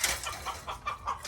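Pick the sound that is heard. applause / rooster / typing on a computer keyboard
rooster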